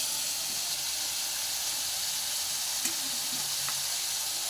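Food sizzles steadily in a hot pan as salt and turmeric go in, a continuous frying hiss with faint stirring scrapes and no talk.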